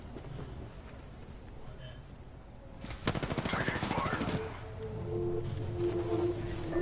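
Automatic weapon fire in Apex Legends, a sustained rapid burst in the middle of the moment, with quieter game ambience and faint activity before and after.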